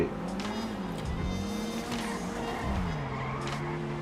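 A car driven in GTA 5 hums with a steady engine tone that rises and dips as it accelerates, with brief tire noise, close and continuous under light game ambience.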